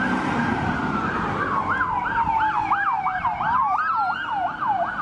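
Emergency vehicle sirens blare at a police scene in a quiet Vista neighborhood, with a loud, rapidly oscillating wail that rises and falls over road noise.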